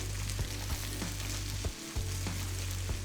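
Ginger garlic paste and slit green chilies sizzle and hiss steadily in oil in a frying pan, with a few soft clicks and scrapes as they are stirred.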